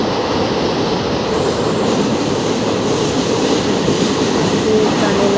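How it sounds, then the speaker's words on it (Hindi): A train runs through a short tunnel of about one kilometre, heard from inside a carriage as a loud, continuous roar and rumble with no breaks, and faint wheel clatter beneath it. "ट्रेन से जा रही थी, फिर रास्ते में पड़ता है एक टनल। आप देखिए टनल में कैसा आवाज़ होता है।"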